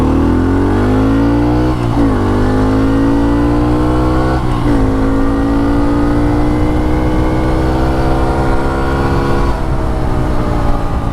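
A modified pit bike engine accelerates down the road, loud and close, its rising whine briefly dipping at gear shifts, then climbing steadily again.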